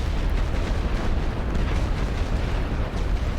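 Artillery fire on a World War One battlefield in The Great War: Western Front, a continuous heavy rumble of overlapping booms and blasts with no pauses, loud and dense throughout.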